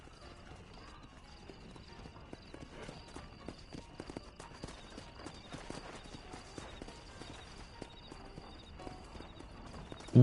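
Horse hooves clip-clop steadily in Red Dead Redemption, a quiet walking rhythm with a faint whinny, soft and continuous in the background.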